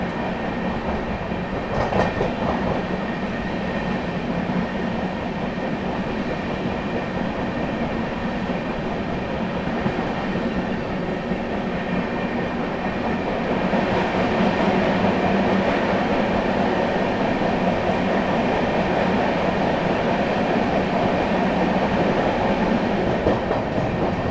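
Heard from on board the Kaifiyaat SF Express as it runs through Hathras Junction in fog, a steady loud rumble of wheels on rails with some rattling, a continuous roar that grows slightly heavier partway through.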